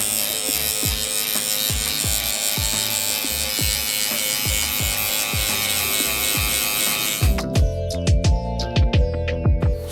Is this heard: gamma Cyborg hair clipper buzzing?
yes